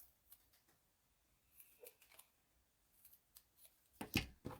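Scissors cutting paper for a card craft, a few faint scattered snips and rustles, quiet and close, ending in a louder crisp cut.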